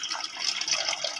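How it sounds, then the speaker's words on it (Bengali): Water is poured into oil for Dhakai paratha dough, making a short, steady, faint trickling splash. "আমি তেলের মধ্যেই জলটা দেবো।"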